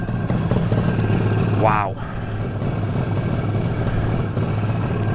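A 1973 Yamaha RD350 motorcycle idles close by with a steady, throbbing engine drone throughout, while a person briefly exclaims over it partway through.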